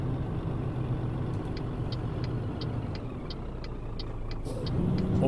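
A Scania truck in Euro Truck Simulator 2, running the Scandinavian ProMod, drones steadily with a low engine rumble and faint rhythmic ticking above it, swelling slightly louder at the end, with no voices.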